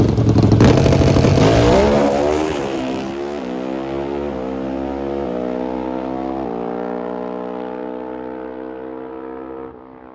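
V-twin drag racing motorcycle on an NHRA test pass: a loud, harsh engine roars hard at launch, then holds a steady, high droning wail as it pulls away and fades slightly at the end.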